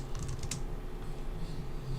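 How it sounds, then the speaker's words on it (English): Quick clicks of typing on a computer keyboard, a short burst of keystrokes near the start over a low steady background hum, close and fairly soft. "Typing sound effects."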